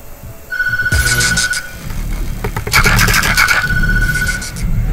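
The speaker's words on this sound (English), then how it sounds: "No, I'm not answering that phone" A telephone rings in the horror video game Tattletail, a loud trilling ring in repeated bursts over a rumbling, scraping game background, with no one talking.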